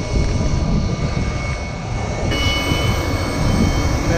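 Airplane engine droning steadily and loudly close by at an airfield in Naples, a continuous roar with a faint whine that holds for several seconds without talk.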